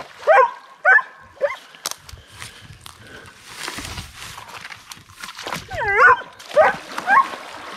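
Dogs yipping and barking in short excited bursts while fetching a stick during canoe camping, with splashing and whimpers between the barks, close by, and a person talking briefly.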